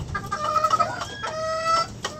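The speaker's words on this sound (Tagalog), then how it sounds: "Ayan po, yung mga alaga nilang manok." Several rooftop chickens, including hens and gamecocks, cluck and squawk close by, with one bird letting out a drawn-out crowing call amid the chatter.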